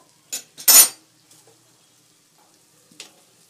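A utensil scrapes and clinks against a cooking pot while potatoes with spices are stirred, two quick strokes followed by a few faint taps and another short scrape, close and clear without talk.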